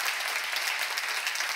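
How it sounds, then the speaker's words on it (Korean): Applause from a church seminar audience, a steady, dense wash of clapping hands filling the short moment at even loudness, with no voices over it. "박수로 하나 둘 셋"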